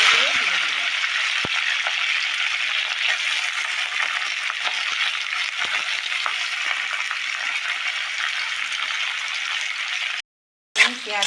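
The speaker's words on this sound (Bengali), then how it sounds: "পেঁয়াজ কালিটা ভাজা হয়ে গেল" Onion slices frying in the same oil used for salted, turmeric-coated aubergine, a steady broadband sizzle held close throughout, with a few clinks and a brief cut near the end.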